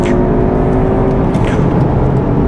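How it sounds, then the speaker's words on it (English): A Cupra car's engine roars loudly and steadily in a drag race against an Audi RS3 on a track, a continuous close drone with a constant whine and no audible talk. "I'll just have one last drag race with the RS3"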